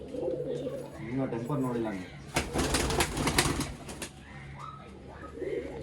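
Pigeons at a Karnataka pigeon seller's loft coo softly and flap their wings in a brief burst, with someone talking over the birds throughout.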